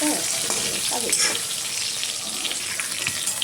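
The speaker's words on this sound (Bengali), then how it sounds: "তার জন্য বেগুনগুলো কেটে নিতে হালকা ভেজে নেব" Sliced eggplant frying lightly in hot oil makes a loud, dense, continuous sizzle close up, with faint stirring and a brief voice early on.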